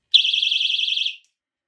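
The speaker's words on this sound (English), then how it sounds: "Starting off with the assault alarm." A personal assault alarm shrieks alone at close range, one loud piercing warbling tone that holds for about a second before cutting off into silence.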